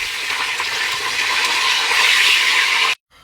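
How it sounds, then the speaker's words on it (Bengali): Eggs fry in hot oil with a loud, continuous crackling sizzle that swells slightly midway, with faint stirring scrapes, then stops suddenly. "এখন ভাজবো ডিম"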